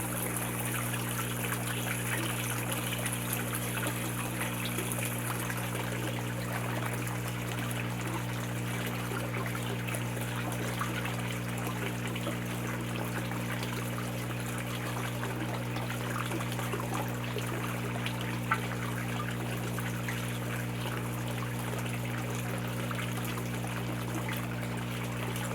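Water squirts from a pump into a flood-and-drain aquaponics media bed, a steady trickling splash running throughout over a constant low mechanical hum, with no talk.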